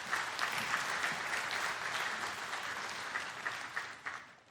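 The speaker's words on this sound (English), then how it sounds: "would you give Nate a round of applause?" A church congregation gives a steady round of applause, many hands clapping in a dense, moderately distant wash that thins out and stops near the end.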